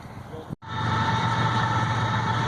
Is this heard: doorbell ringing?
no